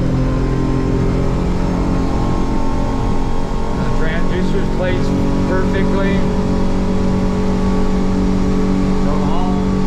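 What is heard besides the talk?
Hewescraft Searunner boat with F150 outboard engine planing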